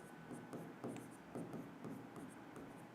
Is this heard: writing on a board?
yes